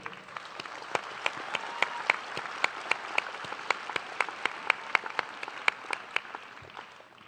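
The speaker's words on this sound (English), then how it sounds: "they deserve a big round of applause" Scattered audience clapping at a middle school promotion ceremony, with distinct individual claps standing out over a softer bed of applause, moderately distant and continuous, fading briefly near the end.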